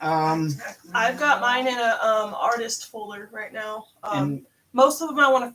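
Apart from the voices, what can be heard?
No distinct noise like a dog, phone or traffic.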